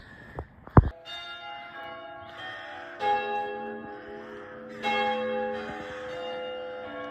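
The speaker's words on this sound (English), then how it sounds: "Apparently 8 bells up in this tower." Church bells of St Barnabas Church, an eight-bell tower, ring out in overlapping, resonant peals, with new strikes around three and five seconds sustaining a rich, lingering tone after a brief knock at the start.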